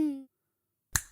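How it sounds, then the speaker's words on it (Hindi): A single sharp finger snap in a cartoon, summoning the genie Gintu, rings out alone and close after a brief tonal sound and a pause of silence. "बुलाओ जिंटू को, चुटकी बजाते ही आ जाएगा"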